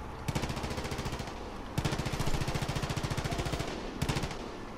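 Machine gun fire in Far Cry 5 rattles in rapid, steady bursts of closely spaced shots, loud and near, broken by brief pauses between strings, with no talking over it.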